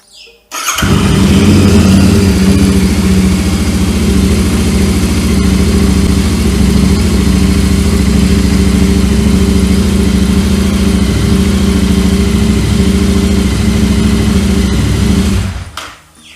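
Motorcycle on its main stand firing up from cold and settling into a steady, loud idle, a continuous mid-pitched engine throb held for about fifteen seconds before cutting off.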